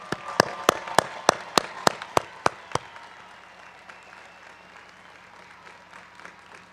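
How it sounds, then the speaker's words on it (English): At a May 2023 KSAS graduation ceremony, about ten sharp, evenly spaced claps ring out close and loud in steady rhythm, then give way to faint, scattered room noise. "please join me in giving a hearty round of applause to this distinguished group"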